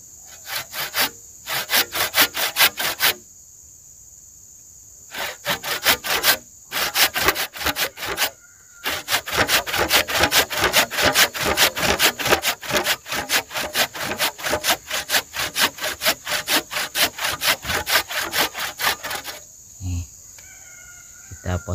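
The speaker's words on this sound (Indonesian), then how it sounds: "Nah, untuk bibit teman-teman, kita potong lagi menggunakan gergaji." Hand saw cutting through woody plant seedling stems for propagation outdoors, loud close rhythmic rasping strokes in several bursts with short pauses, then a long steady run of fast back-and-forth strokes, with a rooster crowing in the background.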